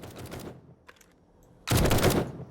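Gunfire in the zombie survival video game 7 Days to Die, a sniper shot from a killbox: a short crack early, a quiet gap, then a loud sustained burst of firing near the end, with no talk.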